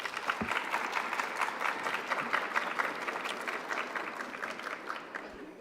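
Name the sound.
applause for graduates' loved ones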